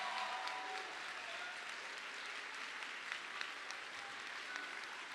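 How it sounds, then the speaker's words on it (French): Steady audience applause at a graduation ceremony honoring top master's and bachelor's graduates, a dense, even wash of many hands clapping from a crowd, sustained and moderately distant. "Et on peut les applaudir, ces majors de promotion, de master"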